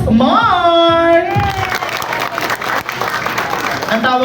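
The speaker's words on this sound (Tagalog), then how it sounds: "palakasan po ng palakpak" Audience clapping and cheering loudly for a contestant in a clapping contest, sustained applause with a voice calling out over it at the start and again at the end.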